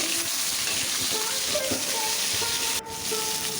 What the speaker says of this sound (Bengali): ফুলকপি আলু ভাজা ভাজা হয়ে গিয়েছে।